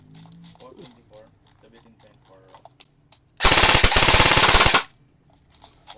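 E&C Colt/Troy licensed airsoft AEG rifle firing on full auto, one loud rapid burst of about a second and a half, close up, between stretches of quiet talking.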